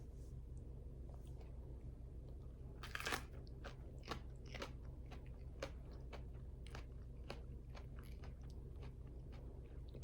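Someone biting into and chewing a shishito pepper, a series of quick, faint crunches close to the mic after one louder bite, set against a low steady background hum with no talking.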